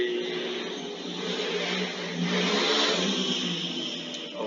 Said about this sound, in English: Also sorry for the motorcycle because yeah, they use motorcycle too much